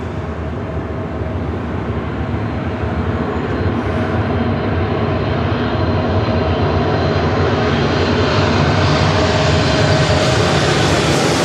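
Loud, steady roar of an airliner's engines at LAX airport, building slightly in intensity as the plane passes close by, with no talk over it.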